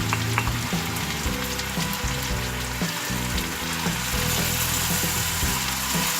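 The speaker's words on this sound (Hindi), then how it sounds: "मसाले को अच्छी तरह से भून लेंगे थोड़ा थोड़ा पानी डालकर।" Garlic, ginger, onion, tomato and ground spices frying in a pan with splashes of water for a bitter gourd and onion curry, a steady close sizzle with small crackles and occasional stirring scrapes throughout, no voices.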